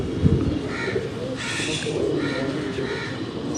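Pigeons on a Karachi rooftop loft give throaty, repeated cooing calls, moderately close, layered over a steady background hum with a brief thump near the start.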